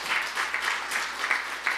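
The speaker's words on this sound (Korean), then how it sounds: "우리 다음 세대들을 향하여 우리 감사로 박수로 격려할까요?" A church congregation applauds in a steady patter of clapping, moderately distant and reverberant, sustained for a couple of seconds without talking.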